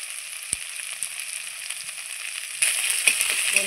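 Chopped onion dropped into hot oil in a pan, a soft steady sizzle with a sharp tap early on, then the frying grows noticeably louder and hissier for the final second.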